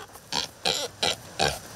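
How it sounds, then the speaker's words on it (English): A pet pig kept beside a suburban bike path in Madison gives four short, close grunts at an even, steady pace, with quiet gaps between them. "Meet the swine that started it all, Rudy."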